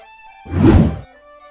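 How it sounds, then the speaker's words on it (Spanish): A single muffled gunshot in the video game Unturned booms once, a deep thump that swells and fades within about half a second. "se escuchan tiros. Tiros por acá"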